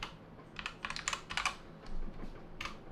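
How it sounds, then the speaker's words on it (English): Rapid clicking of keys on a computer keyboard, bursts of quick taps with short pauses, close and fairly crisp. "let me actually type this out"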